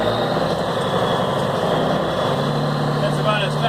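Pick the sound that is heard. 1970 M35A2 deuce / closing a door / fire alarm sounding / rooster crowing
1970 M35A2 deuce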